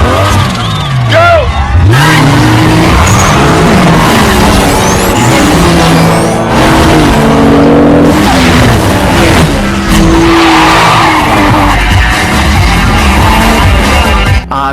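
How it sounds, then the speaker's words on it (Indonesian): Racing cars in a video game skid and squeal their tires amid loud, continuous engine roar and music, with speech-like sounds mixed in throughout. "Akhirnya balapan pun telah dimulai."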